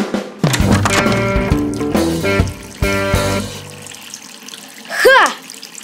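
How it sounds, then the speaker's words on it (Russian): Water runs from a tap left open while filling water for flowers, a rushing splash heard beneath a bright musical cartoon score with plucked notes, then a quick whooshing sweep near the end. "Это я забыл кран закрыть, когда воду для цветов набирал."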